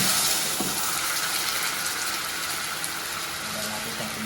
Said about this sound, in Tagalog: Lagyan natin ang konting tubig.